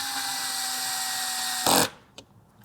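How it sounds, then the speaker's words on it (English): A power drill driving into a wooden shuttle during assembly: a steady whining motor hum that rises into a brief loud burst, then cuts off, followed by a light knock. "my 2 hands are essentially pushing against each other with the drill to get tension"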